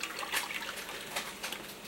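Strained homemade grape juice is poured back into a cooking pot for jam, a soft continuous liquid splash and trickle heard up close and fairly quietly, with no talk.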